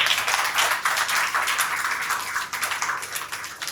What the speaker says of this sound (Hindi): अब आप लोग तैयार हैं, ताली बजाइए।